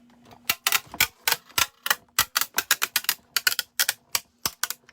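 A rapid series of sharp cracks and snaps from die-cutting machine plates, irregular like breaking glass, loud and close with no talking.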